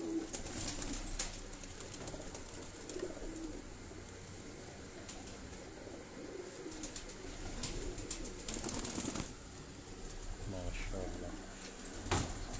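Competition-proven pigeons on a rooftop coo softly and intermittently at a distance, under steady chatter and scattered flapping and clatter.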